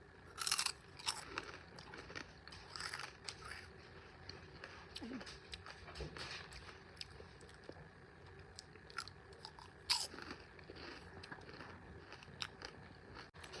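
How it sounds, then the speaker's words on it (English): Crunchy vacuum-fried okra crisps, flavored only with salt and sugar, are bitten and chewed close to the mic, giving repeated crisp crackles with a few sharper bites standing out over steady chewing. "okra crisps with crunch"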